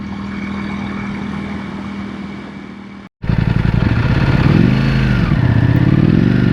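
A motorcycle is ridden in third gear on city streets. The engine drones loudly and steadily up close, cuts out for a moment, then comes back with a rising and falling revving note.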